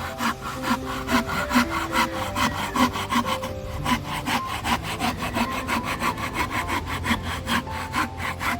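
A hand saw cuts through wood for a chair in a steady, rapid back-and-forth rhythm of rasping strokes, close and continuous over a faint tonal background.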